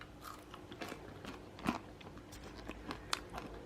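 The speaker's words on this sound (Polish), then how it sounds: "Nie wiem, czy słychać, ale chrupią" Crispy air-fried food is bitten and chewed close by, giving a quiet run of small crunches and crackles with a few sharper bites, and no talking.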